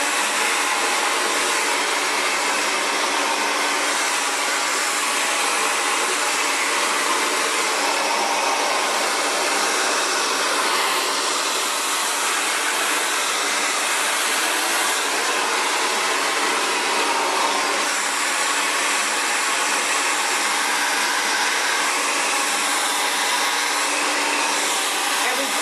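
An Xtava Allure Professional Ionic Ceramic hair dryer runs steadily and loudly, a constant broad whoosh with no breaks from start to finish.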